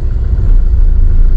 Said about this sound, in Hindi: काफी ट्रैफिक है